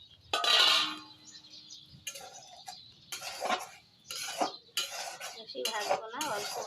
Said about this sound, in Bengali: কড়াই গরম হয়েছে, আমি সুজিগুলো হালকাভাবে ভেজে নেব।